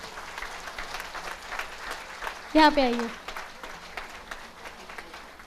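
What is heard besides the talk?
audience applause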